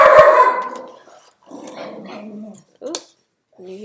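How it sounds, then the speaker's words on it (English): A dog indoors barks and growls as if at someone outside, close and loud, in a couple of rough bursts with pauses between them. "Oh, can you hear my dog?"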